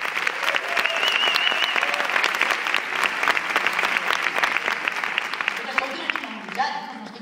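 An audience at a live Catalan music performance breaks into sustained applause for a band, dense steady clapping that carries on for several seconds and fades toward the end, with a few scattered voices.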